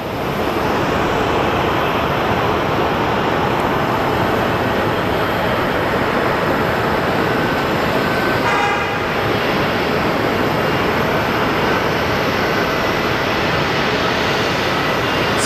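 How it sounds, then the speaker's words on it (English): A Frontier airliner climbs away after takeoff, its landing gear retracting, heard as a loud steady jet roar that fills the whole stretch with little change, no voices over it. "the Frontier is airborne, so I think landing gear should be closing now"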